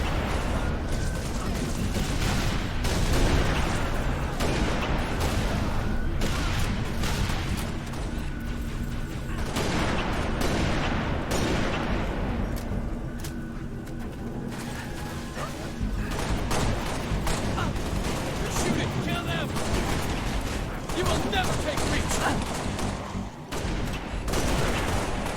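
Sustained gunfire from the Halo: Reach campaign as a Covenant assault is held off, dense bursts of shots and rattling automatic fire crowding together with explosions, loud and continuous throughout with a voice briefly mixed in.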